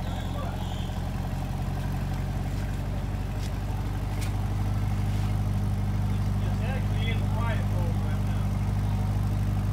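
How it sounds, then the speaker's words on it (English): A 2021 Corvette Stingray with a 6.2L V8 idles steadily at close range, a deep, even rumble that holds constant throughout, with faint voices briefly in the background. "You might need to rev it up a little bit here"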